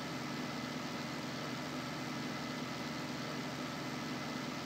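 A tractor engine from the Farming Simulator video game idles steadily, a faint, low, even drone with no talk.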